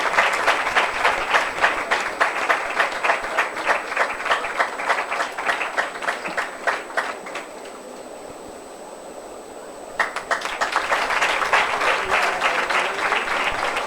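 A church congregation at a Sunday service breaks into sustained applause, its dense clapping filling the hall, then fading to a brief lull before the clapping swells again and carries on to the end.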